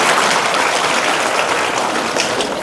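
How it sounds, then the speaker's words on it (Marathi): Loud, dense applause from an audience at a political rally, many hands clapping at once in a steady unbroken wash close to the listener. "अहो टाळ्या एकदा तरी वाजवावी तुमच्यासाठी चालू."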